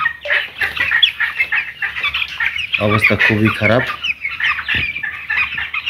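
Thirteen-day-old broiler chicks cheep and peep in a shed during extreme heat, giving a constant chorus of high calls. Someone speaks briefly over them.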